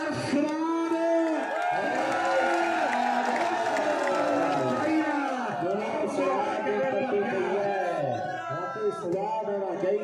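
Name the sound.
crowd clapping at a match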